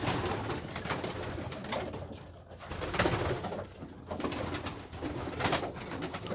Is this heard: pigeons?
yes